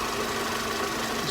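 A warmed-up Mercedes SLK R170 engine idles steadily, a close, even, low rumble with a faint mechanical tick and no change in speed.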